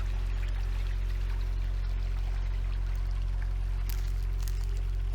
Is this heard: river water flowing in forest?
yes